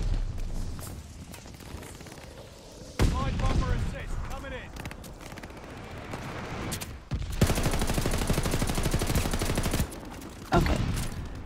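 An LMG in Call of Duty Vanguard fires long sustained bursts of rapid gunfire, loud and close, broken by short pauses, with a voice talking over the shooting.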